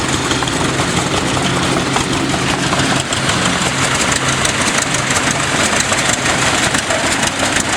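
An antique two-cylinder tractor engine with roughly a 6.5-inch bore idles at a summer tractor show on the prairie, a loud, steady low chugging that runs evenly and close by with no voices over it.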